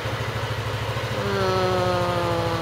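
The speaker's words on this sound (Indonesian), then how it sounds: "nah tuh motornya udah hidup" A motorcycle engine runs steadily at idle right after its dry battery was revived without a charger, a close, continuous low throbbing pulse with a slight rise in pitch partway through.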